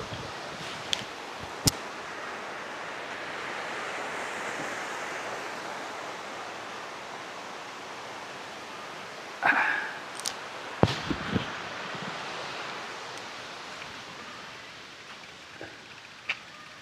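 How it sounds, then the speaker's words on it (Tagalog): Pingo River in Bailen, Cavite flows with a steady broadband rush of moving water, constant and fairly soft, broken by a few brief clicks and knocks. "Pingo River."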